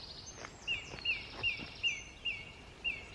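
A bird sings short, clear repeated phrases at steady intervals, about six bright notes over a faint background, fairly close and moderately loud.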